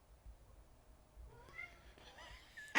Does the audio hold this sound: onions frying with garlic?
no